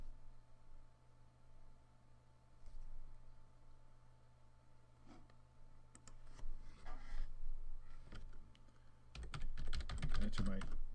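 Keys clacking on a computer keyboard as client login credentials are entered on a Windows 7 machine, in scattered bursts of taps that grow denser and louder toward the end, with no talking.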